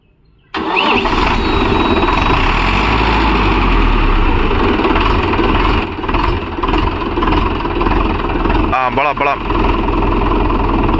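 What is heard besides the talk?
Mahindra Yuvo Tech Plus 585 4WD tractor engine running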